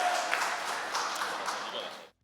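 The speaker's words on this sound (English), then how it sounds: "Another round of applause, please." Audience applause for competitors called up at an Allied Forces esports invitational championship event, a broad continuous wash of clapping lasting about two seconds before stopping abruptly.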